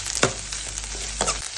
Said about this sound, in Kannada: ಬ್ಯಾಡಗೆ ಮೆಣಸಿನ್ಕಾಯಿ ಹಾಕೊಂಡು ಸ್ವಲ್ಪ ತಿರ್ಗಿಸ್ಕೊಂಡ್ಬಿಡಿ